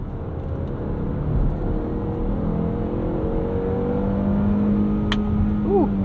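A 2022 Cadillac XT4 with a 9-speed automatic revs through paddle-shift downshifts, a steady engine drone with gentle pitch changes from inside the cabin, ending in a brief higher rev swell.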